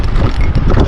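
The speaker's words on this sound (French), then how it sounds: "Il y a pas mal de vent." Steady, loud wind buffeting the microphone while riding an Ausom Gosoul 2 Pro 48V electric scooter at around 24 km/h after a steep climb, a continuous low roar with no talk.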